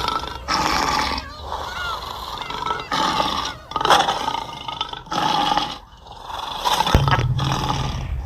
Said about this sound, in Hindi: वह शेर उसे मार कर खा जाता है।